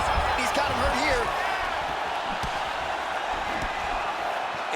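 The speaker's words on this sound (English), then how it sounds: "you hear the crowd react every time they come together" An arena crowd in the UFC 5 fighting video game roars and reacts as strikes land, a busy, dense wash of cheering and shouts under a commentator talking throughout.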